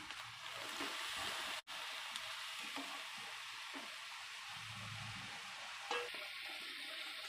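Bele fish with chili, coriander and spice powders sizzles steadily in a pan while a spoon stirs it, with soft scraping and bubbling throughout, one brief break in the sizzle, and no talking.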